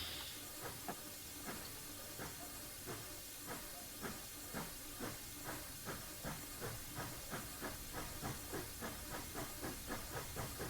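Air brakes releasing on a Rio Grande Southern steam train in Train Simulator, a continuous loud hiss with evenly spaced rhythmic chuffs and clicks running steadily throughout.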